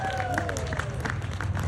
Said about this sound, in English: You guys can applaud louder than that if you'd like